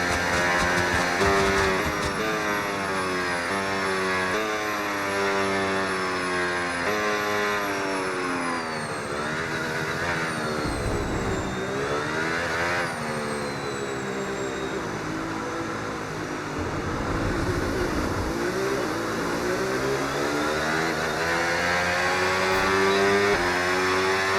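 F1 race car engines in the F1 video game, several high-pitched screaming engines rising and falling in pitch through gear changes and passes, loud and continuous for the whole stretch.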